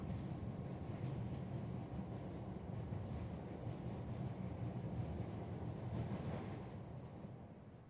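A toy train runs with a steady, continuous rumbling clatter, loud and close throughout, with no talking over it.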